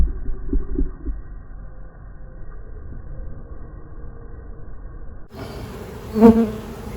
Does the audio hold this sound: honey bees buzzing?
yes